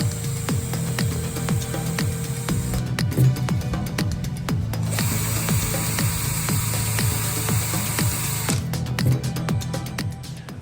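Power screwdriver driving 20 mm chipboard screws into an MDF panel, a continuous whirring motor whine with short bursts as screws bite, close and steady throughout.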